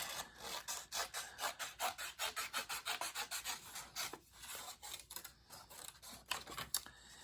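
Paper craft pieces are fussy cut by hand with scissors, producing quiet, rapid rhythmic snips in steady runs, close and faint with no talking.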